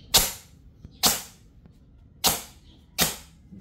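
Four sharp, loud airsoft shots crack out one by one at roughly one-second intervals, fired with an R&G T238 nano flame tracer unit in flash-and-tracer mode. Each report decays quickly into quiet.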